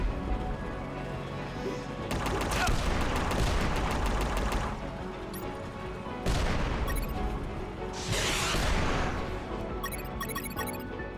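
Rocket launcher firing in the stealth action game UnMetal: a run of sharp, loud repeated blasts and crashing impacts in bursts, with dense rapid popping and a hissing burst later, no talk over it.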